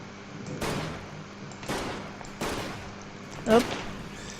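Shots from a gun called Destruction in the Roblox zombie game Bloodfest, four separate blasts spaced about a second apart, with a short voice sound near the last one.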